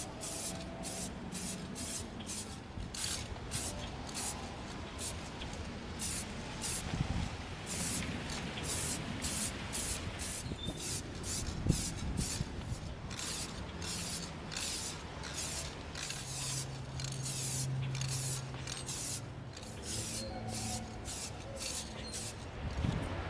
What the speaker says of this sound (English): before we spray it with our crazy chrome spray paint